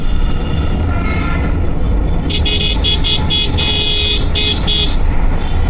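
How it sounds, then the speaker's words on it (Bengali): Car horns honking in congested road traffic, several short toots and a longer blast layered over a loud engine and road rumble, close by. "ওই হর্ন দিয়ে ফাটাওয়া দেখো"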